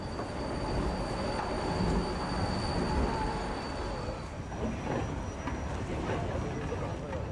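Vienna tram car 73 rolling out of the terminal loop at Unter St. Veit on the last day of line 58, wheels grinding and squealing on curved track with steady rolling rumble.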